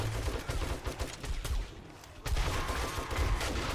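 Rapid bursts of automatic gunfire from base defense turrets in 7 Days to Die, firing in close repeated volleys with a short lull midway before the shooting resumes loudly.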